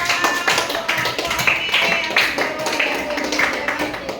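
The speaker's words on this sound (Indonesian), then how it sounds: "Iya, tepuk tangan untuk semua" Students in a junior high school classroom in Teluk Mengkudu clap together in a steady, fairly loud patter of many hands, sustained throughout with a busy, close room sound.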